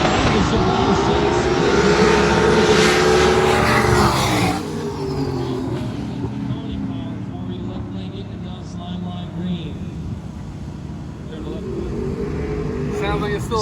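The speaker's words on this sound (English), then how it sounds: "Here's two turbo cars." Two turbocharged drag racing cars at the track, a loud roaring engine sweep that fades after a few seconds into distant rumble, then builds again, with speech over the noise.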